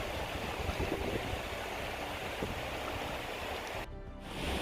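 A mountain stream in the Kościeliska Valley rushes and splashes in a continuous, fairly quiet wash with no voices, dipping briefly near the end.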